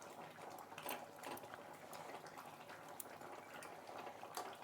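Koi fish curry with red radish simmering in a pot, a steady close bubbling and gurgling that runs unbroken throughout with no talking.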